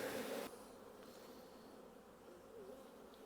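Honey bees buzz at a hive entrance, a faint steady hum with a louder close pass in the first half second, then fading to a soft background drone.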